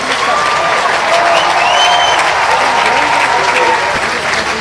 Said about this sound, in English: I'll wait for the applause to die down.